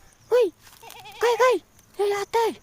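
A bearded goat bleats close by on a farm, giving four loud, wavering cries in two pairs with short pauses between them.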